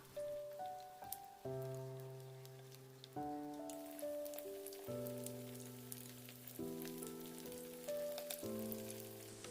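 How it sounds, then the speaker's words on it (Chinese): Egg-coated tofu frying in hot oil, a soft steady sizzle with light popping under a backdrop of gentle music notes. "油热之后，放入我们裹好鸡蛋液的豆腐，给它煎一下"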